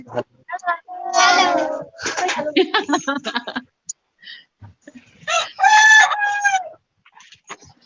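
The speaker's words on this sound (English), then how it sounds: "I hear the rooster wants to say hello too." A rooster crowing in bursts at moderate distance, heard between stretches of someone talking during a children's art session.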